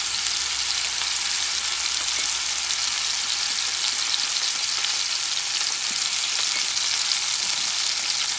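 London broil, a thick steak, sears in oil in a pan over medium-high heat, giving a steady, dense sizzle and crackle that runs unbroken and close, with no voices.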